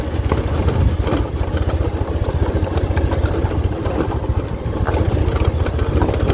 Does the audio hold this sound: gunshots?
no